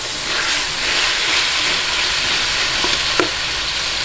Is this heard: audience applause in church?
no